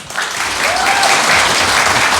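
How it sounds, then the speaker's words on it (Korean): Loud, sustained applause from a crowd at a book concert, steady clapping filling the whole moment without a break. "우리 이 세 분한테 뜨거운 박수 부탁합니다"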